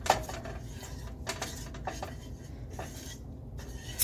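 A utensil stirs oil in a metal pot on an unlit stovetop while brownies are being prepared. Soft, irregular scrapes and light clinks against the pot are heard, close and quiet, with no talking.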